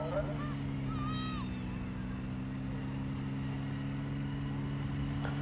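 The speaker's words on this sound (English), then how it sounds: "Another very quick armoured vehicle." A fast armoured military vehicle of a Falklands-era type, mostly automatic gearbox, drones past with a steady low engine hum and strong tonal whine, fairly distant and moderate, with a brief faint voice-like sound near the start.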